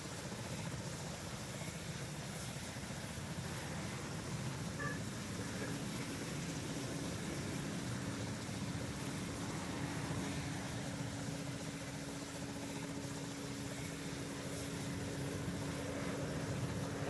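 An airplane flyover during an airshow in the flight game PTFS, heard as a constant engine drone that stays level throughout, with no talking.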